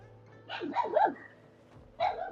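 A dog in the Wuthering Waves video game barks in a quick cluster of three sharp woofs, then lets out one more bark after a short pause. The barks are close and clear, with no talking.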